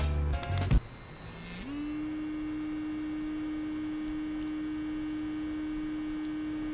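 A Realme N1 sonic electric toothbrush switches on after a few clicks and settles into a steady, quiet, even hum that holds unchanged to the end, with no voices.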